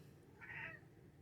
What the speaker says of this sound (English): my cat is crying, if you can hear that